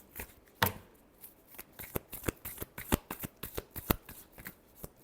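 Close, crisp tarot card shuffling in irregular papery flicks and sharper slaps, some louder snaps standing out, with no talking during the shuffle.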